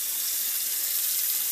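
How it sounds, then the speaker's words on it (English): Dishes are washed at a kitchen sink under running tap water, giving a steady, close hiss of flowing water with no talking. "I'm gonna do up these dishes while my coffee's brewing."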